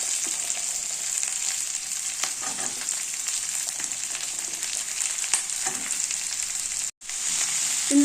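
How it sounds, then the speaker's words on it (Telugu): Ivy gourd (tindora) pieces fry in a pan with curry leaves, giving a steady, fairly loud hiss and sizzle that runs throughout with light stirring scrapes, and one brief dropout near the end. "ఫ్రై అయ్యాక దొండకాయ ముక్కలు వేసుకోవాలి."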